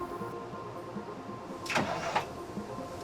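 A truck in questionable condition at the Winton Outback Festival cranks over with a brief, faint whirring start, heard alone against quiet background noise.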